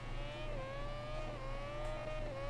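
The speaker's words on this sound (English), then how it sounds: "I've got a wheel spin" A racing motorcycle engine in the GP Bikes video game whines steadily at high revs as the rear wheel spins on a wet track, with the pitch wavering up and down and no talk.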